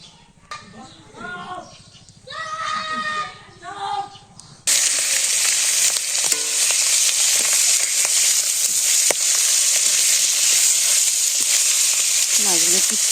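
Chorchori, a mixed vegetable dish, frying in a pan in a village kitchen, a steady loud sizzle that cuts in after a stretch of someone talking and then carries on alone.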